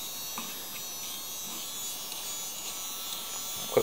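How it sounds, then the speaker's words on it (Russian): A small USB mini vacuum cleaner's impeller runs with a steady, faint high-pitched electric whine and hum, close and continuous, with a brief knock near the end. "Вот крыльчатка заработала и всасывает в себя воздух."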